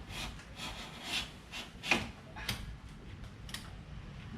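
A blade drawn by hand slices through material during a Vararam intake install on a 2019 Ram 1500, giving quiet, repeated rasping strokes in an uneven rhythm with no talking.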